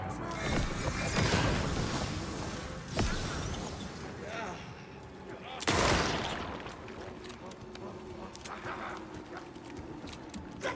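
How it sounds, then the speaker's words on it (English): Hunting rifle gunfire from a video game cracks out as several loud, sharp shots among clattering mechanical handling noise and background game ambience, with talk mixed in. "We're gonna be using the hunting rifle for a bit"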